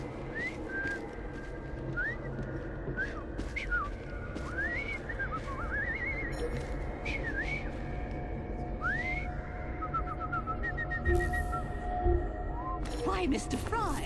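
A video game character in Assassin's Creed Syndicate whistles a series of short rising and falling notes, repeated irregularly over a steady ambient background, with brief voices near the end.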